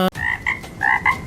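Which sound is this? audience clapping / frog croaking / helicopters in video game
frog croaking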